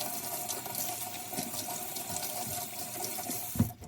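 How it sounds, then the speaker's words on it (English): Scallions are rinsed under a running kitchen tap, a steady soft stream of water splashing in the sink, close but fairly quiet, ending with a small clunk. "so I'm going to go ahead and give them a good wash as well."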